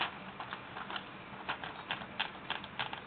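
Keys striking on an Underwood 5 manual typewriter, a light irregular run of clacks coming in small bursts, close but faint, with no talking.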